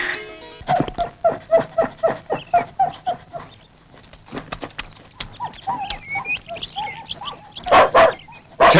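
Dogs barking in a loud rapid series of sharp barks at close range, followed by more irregular yaps and a final burst of louder barking.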